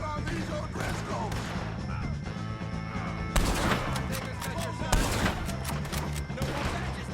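Gunfire in Red Dead Redemption 2 during a shootout with O'Driscoll gang members: repeated loud cracking shots burst over a dense, continuous wash of game sound, with voices mixed in.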